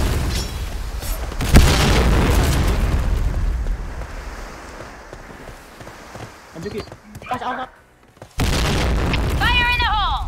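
A grenade blast in a tactical shooter video game booms loud and broad early on, over continuous game noise and players talking, with later bursts and chirpy effects near the end.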